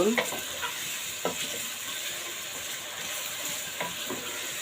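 Spice paste for a Bangladeshi chicken curry frying until brown, a dense, even sizzle with regular scraping stir strokes close up.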